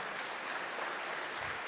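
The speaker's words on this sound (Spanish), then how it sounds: "Den un fuerte aplauso a nuestro Dios." Applause from a church congregation, a steady wash of many hands clapping together, heard at a distance and fairly faint.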